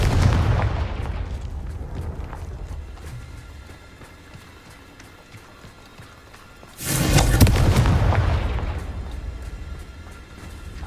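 Confringo spell explosions in Hogwarts Legacy, a heavy booming blast at the start that fades, then a second loud burst with a sharp crack partway through that rumbles and decays, no talking.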